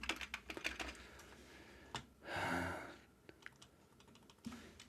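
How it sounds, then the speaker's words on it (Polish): Typing on a computer keyboard, a quiet, close run of irregular key clicks with a short muffled rustle in the middle before the tapping resumes. "Czemu tutaj klawiatura nie działa?"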